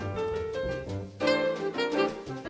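A tenor saxophone plays a line over a jazz band, quoting the rhythm of Handel's Hallelujah theme in short, punchy phrases.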